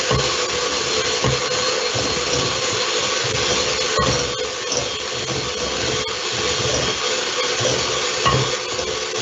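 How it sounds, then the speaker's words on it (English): Crème pâtissière mixture being whisked in a bowl, a steady, loud, continuous scraping and swishing that runs throughout with small rhythmic variations. "I'm just going to give it a bit more of a whisk."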